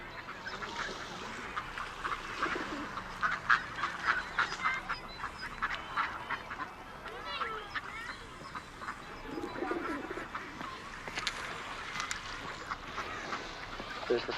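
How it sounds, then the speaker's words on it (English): Ducks and other pond birds quack and call on a park pond, a busy overlapping chorus of short nasal bursts at moderate distance over a low outdoor ambience, continuing throughout. "with the ducks and the other pond birds, with all the quacking and the splashing that goes on all the time"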